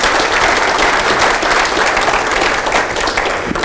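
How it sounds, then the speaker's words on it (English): Audience applause fills the hall after a talk at the 2012 M2M World Congress, steady and dense clapping sustained throughout with no voices on top. "A big round of applause for Tim, please."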